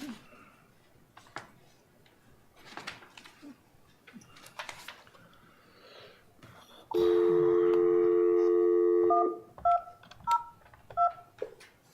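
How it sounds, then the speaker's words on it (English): A telephone dial tone hums for a couple of seconds, then short keypad DTMF beeps tap out a call to a cell phone, after quiet room noise and faint clicks. "I'm gonna call you back on your cell phone, if you don't mind."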